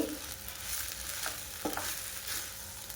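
Veg hakka noodles being stir-fried in a pan, a soft steady sizzle with a few light scraping stir strokes, fairly faint and close, no voices.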